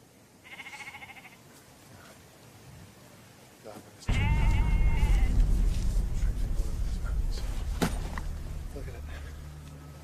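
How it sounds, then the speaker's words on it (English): A brief bleat sounds early, then a loud, close sheep bleats with wavering cries over heavy rumbling background noise. "Nothing but bloody sheep."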